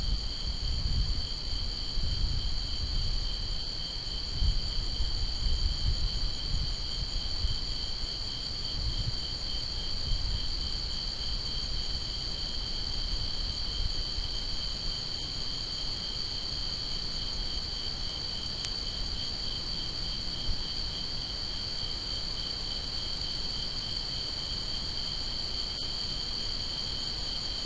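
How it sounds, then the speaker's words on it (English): A continuous, high-pitched nighttime chorus of insects and tree frogs drones evenly, with soft low rumbling and occasional faint rustles beneath. "these are the noises you're hearing are tree frogs and insects and stuff"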